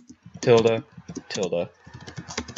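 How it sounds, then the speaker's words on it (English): Computer keyboard typing as a Minecraft command is entered into a command block, bursts of quick keystrokes between pauses, close and moderately loud. "type in the command setblock ~1"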